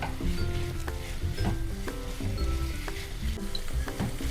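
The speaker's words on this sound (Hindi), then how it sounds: "करीब 1 मिनट तक हम पनीर को सब्जियों के साथ भूनेंगे।" Paneer and mixed vegetables sizzling in a pan over medium heat while being stirred, a close steady crackle broken by soft scraping and light clinks of the spoon against the pan.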